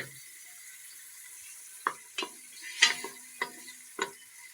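Onions frying in a pan until light golden, a faint steady sizzle broken by several sharp clacks and scrapes of a spoon stirring at irregular intervals.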